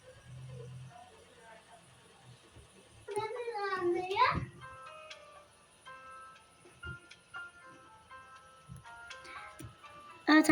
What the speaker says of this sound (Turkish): Ses dolayısıyla çok çok çok özür dilerim. Kardeşim bağırıyor.